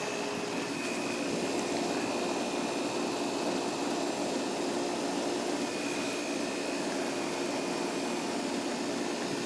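A 2007 Guardian 4-ton central air conditioner runs outdoors with a steady, even broadband whoosh from its fan and a constant hum, unchanging for the whole stretch with no voices.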